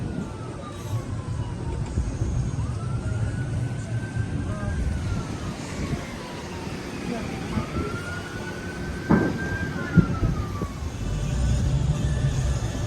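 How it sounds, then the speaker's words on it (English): An ambulance siren wails from a distance, rising and falling in long slow sweeps over steady road and engine rumble near a blocked street during the Lahaina wildfire on Maui, with a couple of sharp knocks. "There's an ambulance coming."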